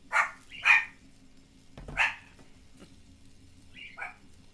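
A dog in a video game barks in a few short, separate yaps, two close together, then one more, and a softer final bark after a pause.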